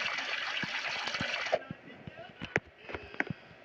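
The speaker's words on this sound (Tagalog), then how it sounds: "Hugas muna ako ng kamay." Running tap water flows steadily during handwashing, a continuous broadband rush for about a second and a half that then cuts off, followed by quieter intermittent splashes and drips, with faint voice-like sounds mixed in.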